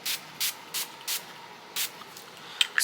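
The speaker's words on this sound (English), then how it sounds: "Daily facial spray." A daily facial mist spray pumped in short, crisp hissing bursts: about five quick sprays in a steady rhythm, then a pause and one more, close and fairly soft, with no talking.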